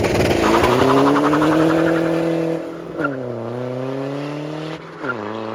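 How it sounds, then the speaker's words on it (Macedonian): BMW 123d driving with its engine loud and close, a strong rising and falling drone that shifts pitch through acceleration and gear changes, with no talking. "Знам дека сите го чекавте овој момент да го слушаме звукот на ова возило"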